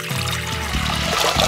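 Water pours into a pot over chopped cabbage, a continuous splashing trickle with small shifting gurgles, close by, with faint background kitchen sounds and no clear talk.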